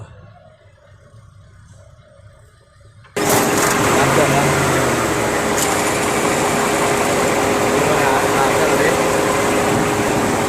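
Car engine with a faulty turbo starting up after a few seconds of quiet background, then running at a loud, steady idle with a constant whining hum through to the end.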